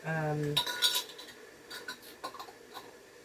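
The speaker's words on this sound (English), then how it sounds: "then put your warm but not boiling hot lids on" Metal lids are set onto glass jam jars, giving a couple of quick bright clinks followed by a few soft, scattered taps. A short voiced tone comes just before, and the whole is quiet and close.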